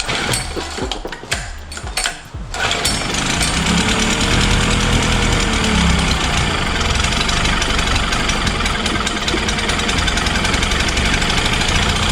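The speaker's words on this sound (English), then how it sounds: "Start up again with a new thermostat and see if that fixes our issue." A small Nissan or Honda outboard motor fitted with a new thermostat starts with a few sputtering bursts, then settles into a loud, steady, rapidly chattering run.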